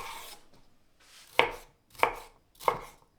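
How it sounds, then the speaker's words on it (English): Garlic cloves chopped with a knife on a board, three sharp distinct chops evenly spaced after a soft opening scrape, close and clear with no talking. "Chop 4 cloves of garlic"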